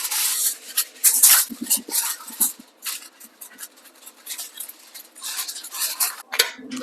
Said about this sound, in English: Cover the top with some aluminum foil.